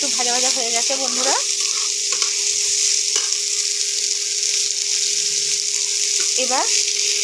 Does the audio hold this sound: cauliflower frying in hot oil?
yes